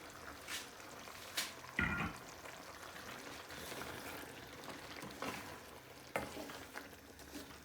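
Sliced mushrooms dropped into a hot pan of liquidy curry for a mushroom bhajee, giving a soft thud and then a quiet, steady sizzle with occasional stirring scrapes.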